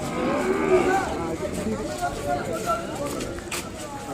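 Ongole cattle moo at an outdoor livestock market, a low drawn-out call standing out near the start against busy crowd noise and people talking close by.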